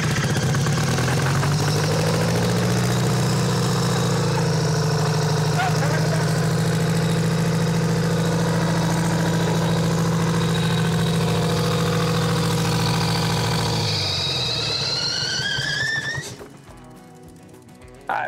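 Detroit diesel engine of a motor grader, locked up for seven years, running steadily at a loud, close idle with a deep throbbing drone for about sixteen seconds before it suddenly shuts off into near quiet.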